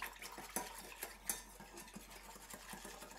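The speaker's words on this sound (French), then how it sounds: "Donc là, on va tout brasser ça." Potato starch sauce for mitarashi dango being stirred in a pot, with a utensil scraping and clinking against the sides in a quick, soft, close rhythm and no talking.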